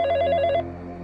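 A telephone bell rings loudly and close for one short burst that cuts off abruptly, leaving a faint electronic hum.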